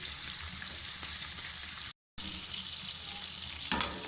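Shrimp fry in a pan for a Cameroonian fried rice, giving a steady, soft sizzle with a brief gap midway and a clink near the end.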